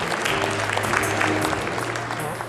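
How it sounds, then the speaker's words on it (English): An audience applauds steadily to welcome a speaker, a dense wash of clapping held at an even level for a few seconds. "Please welcome him with a big round of applause, ladies and gentlemen."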